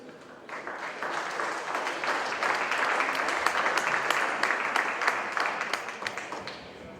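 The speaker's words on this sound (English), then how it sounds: "Give a hand of applause for Josh and Bill from Double Tree Holsteins." Audience applause for Josh and Bill of Double Tree Holsteins, award winners at a spring national Holstein cow show, a steady crowd of clapping hands that builds and holds for several seconds before tapering.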